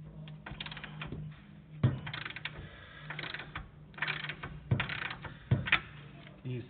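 A 30 mm socket on a ratchet works on the brake of a Renault Megane, producing close, loud bursts of rapid ratchet clicking and metallic clatter separated by short pauses.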